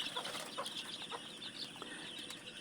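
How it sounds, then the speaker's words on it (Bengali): A hen with her twenty chicks on a small farm, soft clucking and faint peeping in quick bursts, quiet and somewhat distant over a low background hiss. "আজকে আমি একটি মুরগি দেখাবো আপনাদের সাথে, যে মুরগিটি 20টি বাচ্চা সহ এখন রয়েছে"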